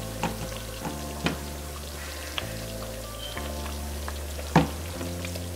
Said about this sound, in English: once it starts simmering, add your jalapeños. And let that simmer all together